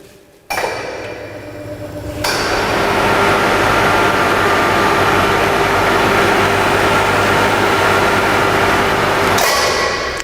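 A motorised adjustable drum rotator lifts a clamped drum: a brief clunk, then a steady, close mechanical drone with a faint whine that holds for about seven seconds before cutting off.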